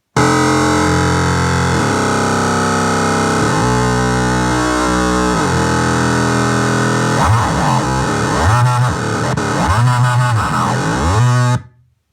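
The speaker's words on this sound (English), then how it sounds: "let's try a distorted signal now and see how it comes through. This is distortion bass." A heavily distorted bass guitar played through a Peavey KBA-60 keyboard amp plays loud, gritty sustained notes, then a run of choppy sliding phrases before cutting off abruptly.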